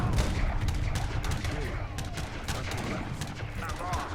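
Musket volleys from units in the strategy game Age of Empires III, a dense run of overlapping cracks and pops repeating irregularly over a low rumbling battle background.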